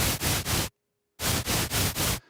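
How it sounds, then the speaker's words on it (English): Bursts of harsh hissing noise from the GlitchScaper iOS synthesizer's noise generator pulse in a steady rhythm, three then four, broken by a short silent gap. "Now we can change this tone to a noise."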